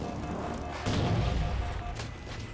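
Gunfire in the video game Halo 4: dense, booming shots that carry on through the clip, with a louder burst near the middle and another sharp blast toward the end.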